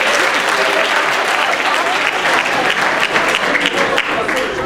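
Steady, dense applause from a large audience at a middle school spring band concert, loud and sustained from start to finish.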